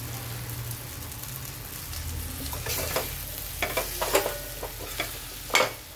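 Leftover idli pieces being stir-fried with spices in a pan, a steady close sizzle broken by scraping stirs and a few sharp clinks of a spatula, with no voices.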